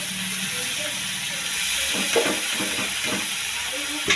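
Boiled banana flower is stir-fried with potatoes in a pan. Steady close sizzling and hiss run throughout, and a spatula scrapes and stirs in a few irregular strokes.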